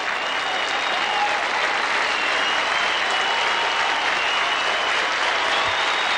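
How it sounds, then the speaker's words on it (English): A stadium crowd at a Philadelphia Eagles versus Buffalo Bills NFL game applauds an injured young quarterback, dense steady clapping filling the whole stretch, loud and sustained with no break. "The crowd is applauding the young quarterback from Yale who is taking the cart into the dressing room"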